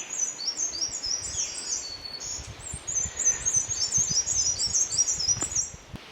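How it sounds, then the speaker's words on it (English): A black-and-white warbler sings its dawn song outdoors in summer heat, a run of thin, high, rapid chirping phrases repeating close together, clear and fairly near over a quiet background. "It's a black and white warbler singing its dawn song."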